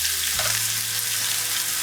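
Loud, dense sizzling of mushrooms frying in oil in a hot pan, continuous and close, with a low hum beneath and no voices.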